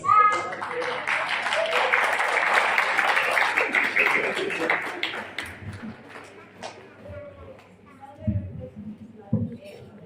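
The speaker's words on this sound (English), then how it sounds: "a round of applause, please." An audience at a school graduation ceremony at Pelican Grammar School claps in a dense burst of applause that fades out after a few seconds, followed by a voice over a microphone.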